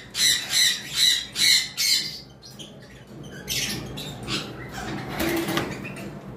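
Rare pet birds for sale squawk in four or five loud, regular rhythmic calls close by, followed by softer chirps and rustling against a steady background hum.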